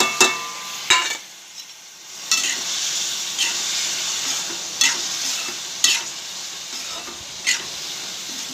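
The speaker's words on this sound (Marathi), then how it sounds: "चांगला मसाला मिक्स करून घ्यायचा" A spoon stirs homemade black masala, chili powder and turmeric through cauliflower frying in a pan, with regular scraping strokes over a constant close sizzle.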